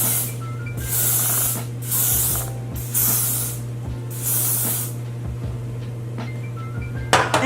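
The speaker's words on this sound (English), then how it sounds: "now I'm gonna take the yellow spray, and I'm just gonna spray my hairline" Several bursts of hair spray hiss onto a hairline during a wig install in quick succession, each lasting under a second, close and fairly loud over a steady low hum, with a few clicks at the end.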